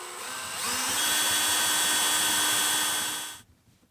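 A loud, steady power-tool whine runs near and alone for about three seconds while a large white rivet is set to install a modification plate during a bus-to-motorhome conversion, then cuts off abruptly.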